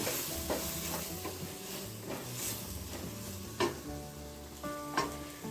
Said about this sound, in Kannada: ಅರಿಶಿನ ಪುಡಿ ಹಾಕೊಳ್ತಾ ಇದ್ದೇವೆ ಎಲ್ಲ ಮಸಾಲೆ ಚೆನ್ನಾಗಿ ಫ್ರೈ ಮಾಡ್ಕೊಳ್ಳೋಣ